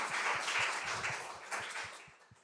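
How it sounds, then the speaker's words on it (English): Members at the Society of Antiquaries annual general meeting applaud in a hall: a dense round of clapping with soft low thumps, strong at first and gradually fading away. "So I'd like a round of applause for the lamp of knowledge"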